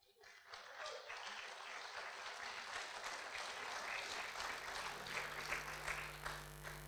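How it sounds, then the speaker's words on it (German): Applause from an audience at a German political speech, quiet and distant, clapping swelling after a brief start and continuing steadily with a low hum beneath. "Applaus"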